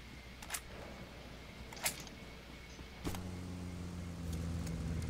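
A vehicle engine in PUBG Mobile starts up partway through and holds a steady low hum, following a few sharp faint clicks and taps.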